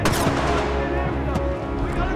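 A Titan lays down rapid supporting gunfire in Titanfall 2, a dense run of close shots and impacts over continuous combat noise.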